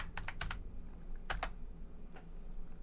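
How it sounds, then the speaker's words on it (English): Computer keyboard keys clicking in short bursts while a search word is entered in Canva, a quick run of taps, a pause, then a few more close, quiet keystrokes. "Let me type in coffee."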